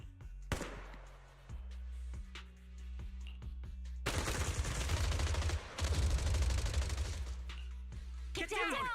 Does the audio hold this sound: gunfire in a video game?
yes